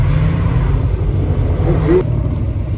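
A '72 Plymouth Valiant with an EFI Magnum swap slides sideways through a left-hand corner at an autocross, its engine rumbling loudly and steadily close by before easing off.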